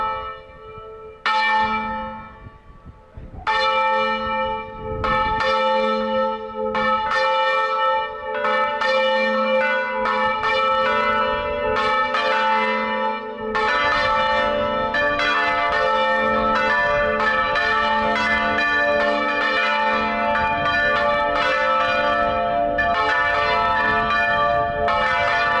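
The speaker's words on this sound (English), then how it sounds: "Ring those fucking vampire bells, boys." Bells ring out in a long, loud peal, with many overlapping strokes and sustained resonant tones layering continuously with no talking.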